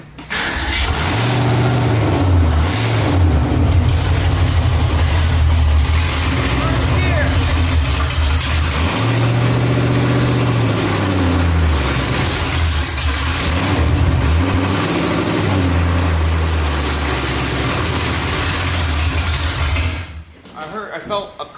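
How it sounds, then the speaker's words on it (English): A budget 1965 Ford Mustang with a top loader transmission starts up and runs loudly for about twenty seconds, its engine revving up and down in repeated swells before it cuts off near the end. "Now what I'm gonna do is hop in the car, fire it up, and make sure this thing shifts"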